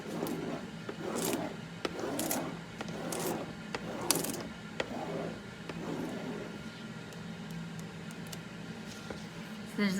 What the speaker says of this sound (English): I'm just gonna go back and rub those down